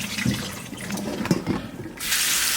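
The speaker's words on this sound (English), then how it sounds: "I'm just rinsing off these little potatoes in cold water" Cold tap water runs steadily into a sink, rinsing small cut potatoes, with splashing and gurgling that swells louder near the end; no one speaks.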